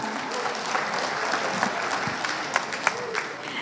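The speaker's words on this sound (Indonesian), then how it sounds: "Beri tepuk tangan bersama." Audience applause at a live event on an Indonesian daytime TV broadcast, a steady wash of many hands clapping at once, with a few sharper claps standing out near the end.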